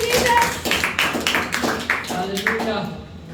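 A church congregation claps for the Lord in a quick burst of scattered hand claps, a few sharp strikes standing out over room reverberation before fading.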